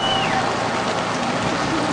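Steady rain falls over an outdoor protest rally in Berlin, a dense continuous hiss of drops spread evenly across the clip with no clear voices.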